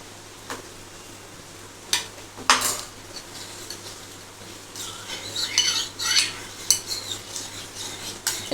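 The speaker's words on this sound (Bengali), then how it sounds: "তারপরে দেখো এই দুধের মধ্যে এটাকে আমি মিশিয়ে দেবো" A spoon clinks and scrapes against a pot while a makhana mixture is stirred into milk for kheer, with scattered metallic taps building into busier clattering toward the end; no one speaks.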